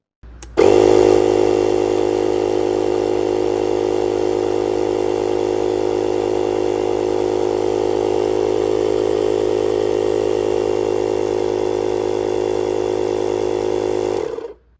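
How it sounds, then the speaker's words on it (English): Portable JFEGWO F85 air pump and power bank running steadily, a loud continuous buzzing motor drone that starts abruptly, holds even for the whole stretch, then cuts off at the end. "We're going to turn the compressor on and see what happens"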